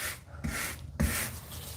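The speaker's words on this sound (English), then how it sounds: "That's a nice lip right there for scraping excess off." A tool scraping excess grout off shower tiles, two short rasping scrapes separated by a brief pause, close and fairly loud with no talking.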